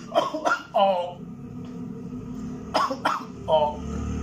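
A voice imitates a child's spasmodic whooping cough: clusters of short, harsh, close coughing bursts, with a pause between the two groups.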